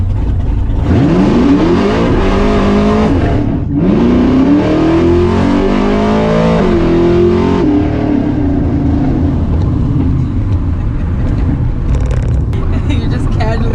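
A modified Camaro SS with its exhaust cutouts open revs loudly and close, with two rising engine sweeps followed by a rumbling idle, while people talk over the engine.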